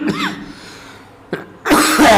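A person coughs a few times: one short cough, then a second after a pause, and a harsher burst of coughing, close and loud with no talking.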